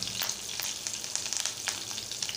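Curry leaves crackle and sizzle in hot oil already holding cumin, mustard seeds and asafoetida, a dense close spitting fry with sharp pops through the short stretch, tempering for a Malvani-style jackfruit bhaji.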